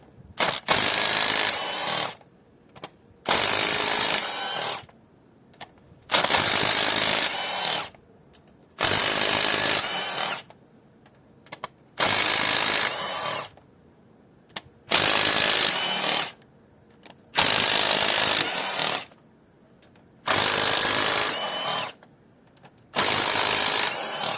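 A small impact gun fitted with an E12 socket works loose the cylinder head bolts on an Opel/Vauxhall 1.8 16v engine. It fires in nine loud, rattling bursts of about two seconds each, separated by short quiet gaps.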